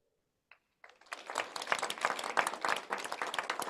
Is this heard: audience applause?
yes